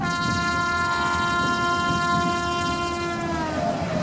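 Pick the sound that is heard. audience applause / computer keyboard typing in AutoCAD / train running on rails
train running on rails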